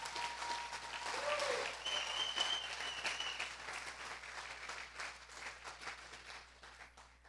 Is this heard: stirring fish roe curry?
no